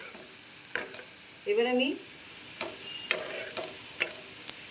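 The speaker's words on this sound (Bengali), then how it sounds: "আদা রসুন যেটাকে আমি পুরো ছেঁচড়ে নিয়েছি, মানে একটু মেশ করে বাটিনি, ওটাই আমি কড়াইতে দিয়ে দেবো।" Crushed ginger and garlic frying in oil in a wok, a quiet continuous sizzle broken by several sharp spatula scrapes and clinks, with a brief spoken phrase over it.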